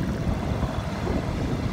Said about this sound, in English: Right now I'm just motoring along.